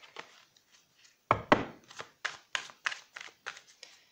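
Tarot cards being shuffled and cut by hand, a series of soft, crisp slaps and riffles with two louder thumps in the middle, close and alone with no talking.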